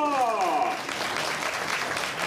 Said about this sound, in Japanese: やるじゃないか、みんな拍手だ。